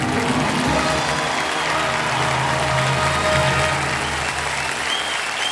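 A studio audience on the quiz show Kaun Banega Crorepati claps for a contestant in loud, dense, sustained applause that stays steady from start to finish.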